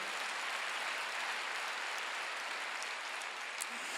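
A church congregation claps during a Sunday worship service, an even, continuous wash of applause held at a moderate level throughout, without a clear voice on top.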